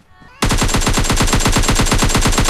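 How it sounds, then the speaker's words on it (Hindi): An AKM rifle fires in a video game, a loud, rapid automatic burst starting abruptly after a brief quiet moment and continuing as steady, evenly spaced shots for about two seconds, close and dominant. "मैंने AKM निकाल ली और भाई ठोक दिया"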